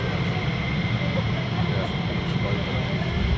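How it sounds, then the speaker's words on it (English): F-15 fighter jets taxiing at RAF Lakenheath air base, a steady distant low engine rumble and whine, with talk that may sit under it. "I think we've got more F-15s taxiing out there"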